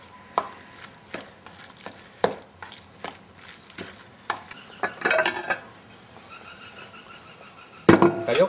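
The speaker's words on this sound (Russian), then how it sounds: "мешаем, мешаем." A spoon scrapes and taps against a pan, stirring an eggplant salad with salt and black pepper in irregular strokes, with a louder clatter of utensils near the end.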